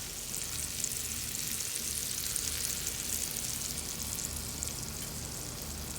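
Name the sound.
scallops searing in a cast iron pan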